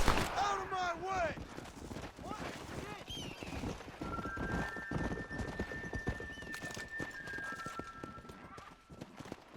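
Horse hooves clip-clopping steadily in the Western video game Red Dead Redemption, mixed with neighing, gunfire and game voices, with sustained tonal music-like notes in the middle.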